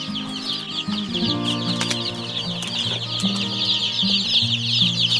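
A flock of 53 baby chickens clucking and cheeping continuously, with bursts of wing flapping among them, close and busy with no speech.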